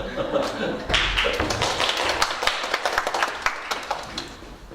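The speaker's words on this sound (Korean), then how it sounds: "감동받으셨으면 그냥 박수 치세요." An audience at a Bible seminar claps, a dense spatter of hand claps that starts abruptly and then thins out into scattered taps, with voices talking over it.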